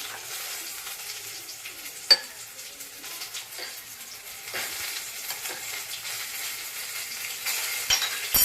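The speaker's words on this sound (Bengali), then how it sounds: "ওই জলের মধ্যেই আমি হলুদটা গুলিয়ে নেব" Turmeric is stirred into mustard-paste water for a village-style hilsa fish dish. Soft, quiet spoon scrapes and light clinks against a bowl are broken by an occasional sharper tap, with no voices.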